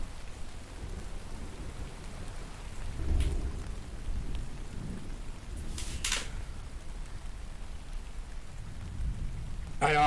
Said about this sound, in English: I love me a good rain and thunderstorm.